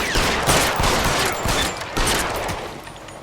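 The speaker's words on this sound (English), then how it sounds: "What's with all the firecrackers?" Rapid gunfire crackles in bursts, like firecrackers, in the video game LA Noire, with sharp overlapping shots echoing loudly through the whole stretch and no talk over them.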